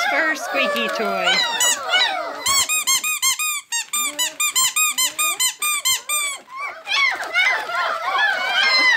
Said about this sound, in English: Puppy's first squeaky toy.